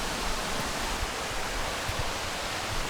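Waterfall at Brasstown Falls on a hiking trail, a constant broadband roar of falling water, steady and fairly close, with no talking.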